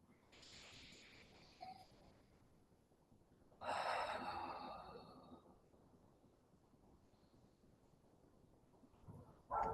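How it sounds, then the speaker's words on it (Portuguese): Slow, deep breaths released through the mouth during a guided Tibetan Buddhist meditation, two long airy exhales, the second louder and trailing off, with a quieter breath at the start and another at the end. "Fazemos algumas respirações profundas"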